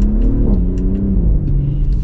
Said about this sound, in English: I love the sound of that exhaust, actually.